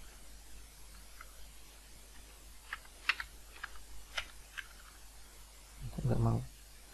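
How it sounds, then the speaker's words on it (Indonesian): Fingers tap a computer keyboard in short scattered bursts of soft clicks over a quiet hiss, ending in a brief louder rustle, with a faint voice in the background. "berarti kita ketik di sini"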